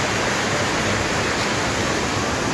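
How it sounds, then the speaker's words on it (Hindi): Fast, dangerous river roaring below a bridge on the way to Badrinath Temple, a steady, loud, broadband rush of churning water filling the whole clip with no talk over it. "तो भाई अभी हम पुल पे आसपास आवाज़ तो आ ही रही होगी। ये है यहाँ पे कोई नदी खतरनाक सी वाली"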